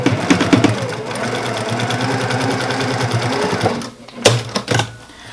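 A sewing machine stitches through a fabric face mask with a steady, loud mechanical whirr of rapid needle strokes. It slows and stops near the end with a few short bursts.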